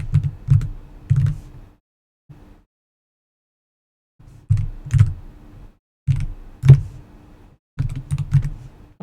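Bursts of clicky typing on a computer keyboard come close up, with pauses between short runs of keystrokes and no talking.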